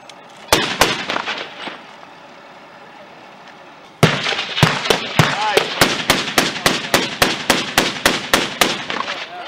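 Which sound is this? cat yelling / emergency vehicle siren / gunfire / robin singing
gunfire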